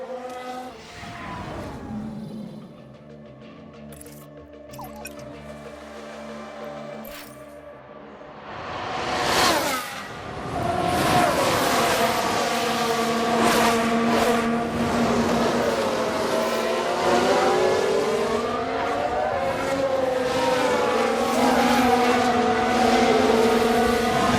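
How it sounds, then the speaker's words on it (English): Car spinning out during a Formula 1 race replay in F1 Manager 22, with an engine dropping away then surging back to a steady, loud high-pitched whine as revs climb, tonal bands sweeping through the spin. "That looked like a very nasty spin."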